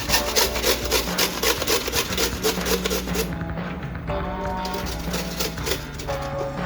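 Zucchini and cabbage are shredded on a sharp hand grater in a fast, steady run of close, loud rasping strokes; the scraping briefly changes character midway, then continues without any talking.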